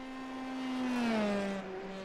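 A Formula 3 race car engine drone in a racing simulator at Zandvoort drops in pitch as the throttle lifts off, a smooth descending whine lasting a couple of seconds.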